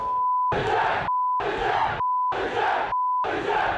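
A large crowd of construction workers protesting in Melbourne shouts and roars in loud bursts, with a steady electronic beep sounding in the short gaps between each burst.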